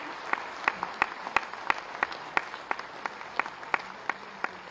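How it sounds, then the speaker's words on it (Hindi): Sparse, evenly spaced hand claps from a small audience at a municipal officials' workshop during a launch ceremony, sharp distinct slaps in a fairly quiet room. "विमोचन के समय तालियां"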